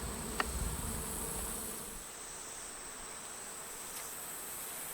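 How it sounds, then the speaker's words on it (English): Continuous buzzing of many bees near a hive after a swarm, louder at first and then settling into a steadier, slightly softer hum. "there are literally bees"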